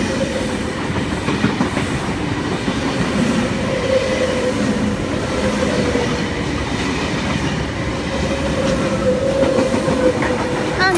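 A V set passenger train bound for Hamilton runs through platform two at Wondabyne station in New South Wales, loud and close, with a continuous rumble, rhythmic wheel clatter and faint tonal squeal as the carriages roll past.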